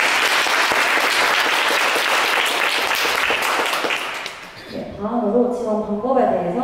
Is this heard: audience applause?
yes